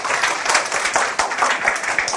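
A university class claps for a student presenter, a close, lively patter of hands with distinct individual claps, brief and energetic.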